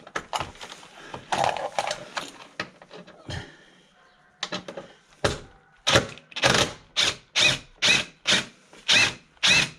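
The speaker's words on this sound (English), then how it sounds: "I found another bolt down there for air intake. I'm going to undo that one. That's another 10mm." A 10mm bolt on the air intake of a 2007 VW Beetle is undone with a tool, close scraping and clattering giving way to a series of evenly spaced, loud ratcheting bursts.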